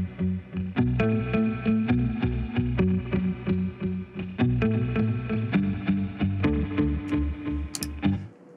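Guitar played through reverb and several delay effects, with a steady rhythmic pattern of plucked notes whose repeats smear and echo into each other, played alone at moderate volume.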